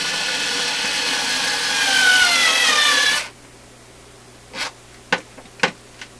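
A power drill runs steadily for about three seconds, driving a screw into the wooden cabinet of a Rogers Majestic 7M632 vacuum tube radio. It stops, followed by a few sharp, close clicks and taps.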